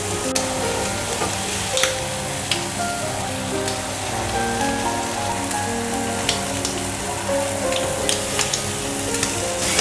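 Prawns sizzle in a hot pan as they cook for butter prawns, a steady dense crackle with occasional sharper pops and stirring, loud and continuous with no talking.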